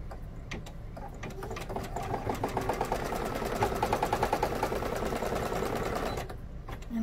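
An embroidery machine stitching a Zip and Go 2.0 project runs steadily for about six seconds, a close, rapid mechanical chatter with a regular rhythmic pulse, then stops; there is no talk.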